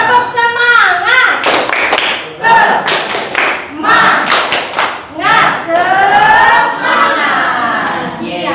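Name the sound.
class doing rhythmic "tepuk semangat" clapping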